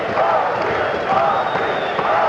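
A home boxing crowd in sweltering San Juan, Puerto Rico, yelling steadily throughout a Michael Dokes vs Ossie Ocasio fight, a dense roar of many voices heard from inside the arena.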